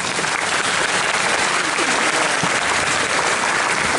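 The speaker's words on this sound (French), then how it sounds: "On peut les applaudir très fort." A large crowd at a Japan Expo cosplay show applauds loudly, a dense, uniform roar of clapping from many hands that stays constant throughout.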